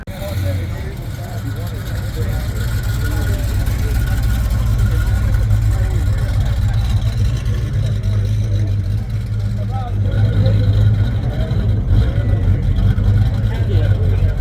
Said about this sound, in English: these bigger cars from the late 60s and early 70s, you know, not only look imposing, but they also sound imposing too